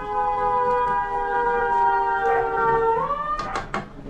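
A fire truck siren wails nearby with a long sustained tone that slides upward near the end, followed by a few short bursts of noise.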